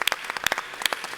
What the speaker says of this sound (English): give a round of applause to School of Business, Advisory Board, and Actress members